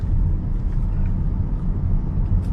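Steady low rumble of road traffic on a highway heading to Mumbai, engines idling and creeping in a jam, continuous and close with no distinct horns or voices.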